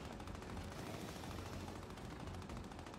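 Gunfire in the video game Gears 5 aimed at the player, a faint, continuous crackle of rapid automatic shots in a dense burst with no pauses.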